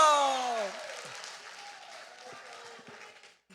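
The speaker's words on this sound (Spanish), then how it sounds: "Fuerte aplauso para el hermano Ángel." Applause for brother Ángel rises in a Bible class, a soft wash of clapping that fades gradually, with a falling voice and some indistinct talk over it at the start.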